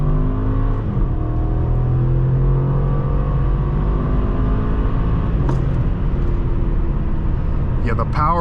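A 2013 BMW 750Li xDrive pulls away hard after a U-turn, its engine note rising steadily over about eight seconds, heard from inside the cabin with a voice talking over it.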